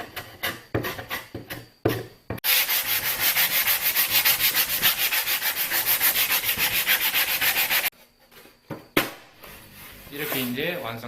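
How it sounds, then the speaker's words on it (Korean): Steady, rapid back-and-forth rasping of sandpaper on wood, loud and close, running for several seconds between brief knocks and handling sounds. "이런 부분들도 사포로 마무리해 주십시오."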